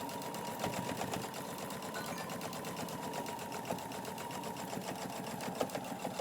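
A sewing machine runs in a steady, fast mechanical clatter as it stitches a folded pant leg hem, heard close and fairly quiet with no talk.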